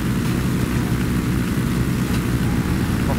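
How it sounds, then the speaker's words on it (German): A drone whirs overhead in Ghost Recon Breakpoint, a loud, steady propeller drone with a low rumbling engine tone that holds unbroken throughout. "Ein Drohne. War ein Drohne."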